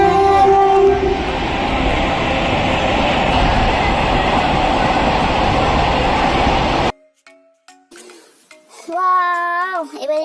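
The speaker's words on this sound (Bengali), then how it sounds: "ওয়াও, সুন্দর ট্রেন, নাইস ট্রেন।" A toy train runs with a loud, steady whirring rattle for about seven seconds, then cuts off abruptly, followed by a brief voice sound.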